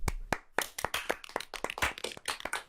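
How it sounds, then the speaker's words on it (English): A crowd claps quickly and unevenly in a dense burst of many hands, close and fairly loud, lasting a few seconds with no voices. "and everyone claps"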